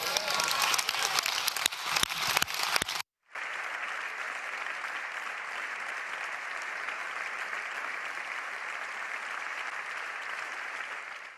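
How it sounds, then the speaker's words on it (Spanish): An audience in the Spanish parliament gives a standing ovation, with dense, loud, sustained applause from many hands; a short burst cuts off, then the clapping resumes and carries on evenly without a break. "les pido que aplaudamos en pie a María Corina Machado, heroína de la democracia"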